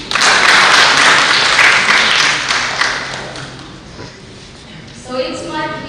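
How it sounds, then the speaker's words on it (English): Audience applause for a contestant at a youth public speaking competition, a dense burst of clapping that starts loud and gradually thins out over several seconds, with a voice rising faintly near the end. "Once again, clap for him."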